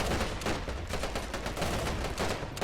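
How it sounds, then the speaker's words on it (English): Dense, continuous battlefield gunfire and artillery from 25-pounder guns in a war video game set during the siege of Tobruk, loud and sustained with overlapping blasts and no talking. "25-pounders suppressing the Italian assault."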